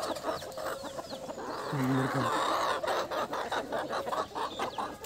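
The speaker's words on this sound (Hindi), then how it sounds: "ये देखो ये कैसे बड़ा टेढ़ मुर्गा है ये असील मुर्गा जो यार आया ये काले वाला ये कड़कनाथ" Desi free-range poultry, an Aseel rooster and black Kadaknath chickens, clucking in an open farm area; repeated clucks and short calls rise over a busy flock, with a louder burst near the middle and a voice talking throughout.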